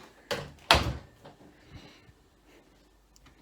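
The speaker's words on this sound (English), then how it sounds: "close this door." A door in a cold room is pushed shut with one solid thud, preceded by a softer rustle of movement and followed by faint handling sounds.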